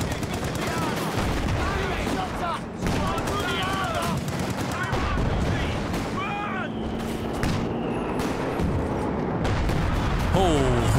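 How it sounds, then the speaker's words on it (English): A camouflaged anti-tank gun in Company of Heroes 2 fires amid a dense battle of machine-gun bursts, rifle shots and booming artillery, with a voice commentating over the continuous loud gunfire. "Here comes our AT gun in camouflage mode,"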